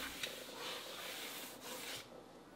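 A cloth rubs and wipes over an NP4 or NP10 leather skiving machine, clearing dirt and leather dust: a brief, soft, close scuffing sound with a couple of slightly firmer strokes and no voices.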